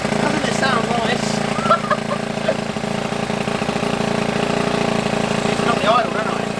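An 88cc big-bore Honda CT70 engine with a larger cylinder head runs at a steady, loud, close idle with an even low chugging drone, while a voice talks faintly over it.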